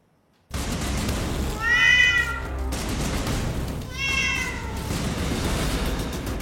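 Several cats meow loudly in a crowded flat in Pune that houses around 350 cats, two drawn-out cries rising over a constant busy background noise.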